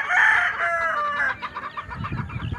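A rooster in a backyard chicken coop crows loudly and close by, followed by hens clucking in quick bursts under a low background rumble.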